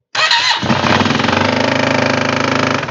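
A Yamaha TMAX scooter engine with its belt removed cranks and catches, then runs loud and close with a rapid, harsh rattling clatter throughout.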